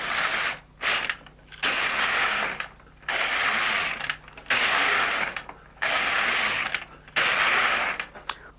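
LK150 knitting machine carriage sliding back and forth across rows, loud mechanical ratcheting sweeps in regular bursts of about a second each, separated by short pauses, close and alone.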